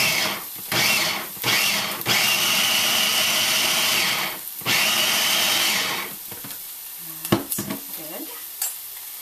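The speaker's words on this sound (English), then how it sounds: "It's just diced tomatoes, and I'm gonna grind them into a smooth paste." Diced canned tomatoes are ground into a smooth paste in a blender-like appliance, loud whirring bursts with brief gaps, then the motor stops and a few clinks and faint sounds follow near the end.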